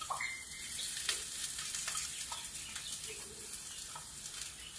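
White onion frying in hot oil in a pan, a continuous bright sizzling hiss with small pops and crackles, steady and close.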